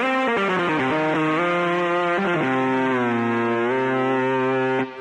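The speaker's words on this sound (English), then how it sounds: "you can go all the way from a distortion guitar" A keyboard's distortion guitar voice plays a string of sustained, gritty notes that slide between pitches for about five seconds, loud and alone, then stops abruptly.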